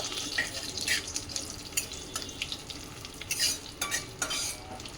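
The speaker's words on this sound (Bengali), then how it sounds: "এখন দিয়ে দেবো হিং হিংটা দিয়ে একটু নাড়াচাড়া করে নেবো" Asafoetida being stirred into vegetables frying in hot oil, giving a steady sizzle with scraping stir strokes and bursts of hissing, close and alone.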